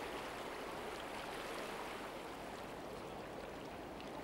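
A fast-flowing river rushes in a steady, loud broadband wash, close by and continuous with no voices over it.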